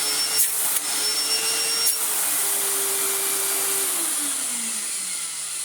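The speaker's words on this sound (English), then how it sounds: "We do have good suction." An Electrolux 350e vacuum cleaner runs on a rug with a loud, steady whooshing roar and a high whine, its motor pitch sliding downward near the end.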